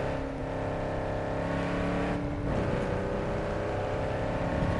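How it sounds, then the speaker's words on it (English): A hypercar in Cyberpunk 2077 accelerates hard toward 180, its engine tone climbing steadily. A brief dip mid-clip sounds like a gear change, and then the rising whine resumes, continuous and prominent with no talk. "right now, I'll just show you how quickly it gets to 180"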